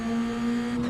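A car engine holds a steady, sustained drone with a strong low hum throughout, continuous and fairly loud, played back through AntLion Audio Kimura Solo earphones.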